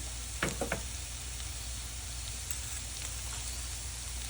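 Onions frying in a pan for vermicelli upma, a soft steady sizzle with a few brief clinks of a utensil near the start, faint and without talk.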